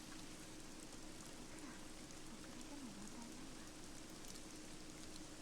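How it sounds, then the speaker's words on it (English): Heavy rain pours down and drums against a window in a steady, dense hiss that holds at an even level throughout, with no pauses or breaks. "In no time at all, it's turned into a downpour, pounding against the window."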